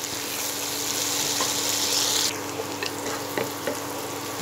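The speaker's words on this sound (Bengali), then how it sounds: "হিট বাড়িয়ে রেখে কন্টিনিউ নাড়াচাড়া করে 2 মিনিটের মতো আমি সবজিগুলো ফ্রাই করে নেব।" Loud, continuous sizzling of mixed vegetables stir-fried over high heat for Chinese-style fried rice, the hiss dropping suddenly partway through, followed by scraping and tossing in the pan.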